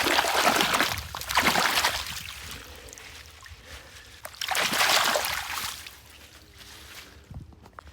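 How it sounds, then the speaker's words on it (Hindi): Irrigation water runs through an earthen field channel on a farm, gurgling and splashing close by in uneven surges that swell and fade over several seconds, with no talking. "अब पानी इस खाल में से 2-3 दिन मज़ीद गुजरना है"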